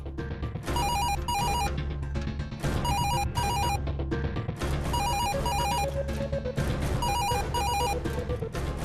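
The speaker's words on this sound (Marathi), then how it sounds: "मी हात धुते आणि बघते कुणाचा फोन येते." A telephone rings in a home in a repeated electronic ringtone pattern, loud and close, cycling several times with no voices.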